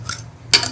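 Mashed barfi stirred into fruit cake custard with milk in a pan: a spoon clinks and scrapes against the pot in a short burst after a quiet moment, close and fairly loud.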